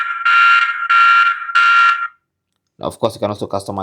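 A TP-Link Tapo C310 security camera siren sounds three loud, harsh electronic blasts in a regular on-off pattern, then stops; after a short silence a person starts talking.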